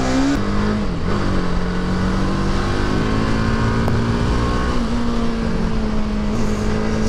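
A TVS Apache RR310 motorcycle pulls hard in first gear, its engine a loud, close, continuous drone that climbs slightly in pitch, with no talking.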